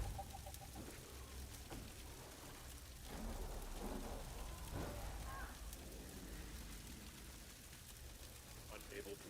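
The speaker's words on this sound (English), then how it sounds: "Sound of rain." Steady rain patters in the video game Guild Wars 2, a soft, continuous hiss with a few louder splashes and thumps, heard quietly with no music.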